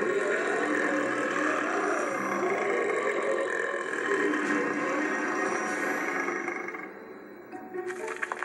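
A long, drawn-out cartoon burp from a female character, loud and continuous for several seconds before tapering off, with a brief extra sound at the very end.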